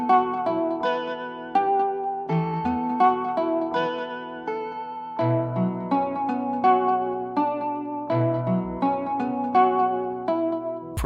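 Dark trap beat sample layered with vintage vinyl-style texture effects, a continuous looping melodic phrase with pulsing chords and steady bass running for about eleven seconds, no voices over it.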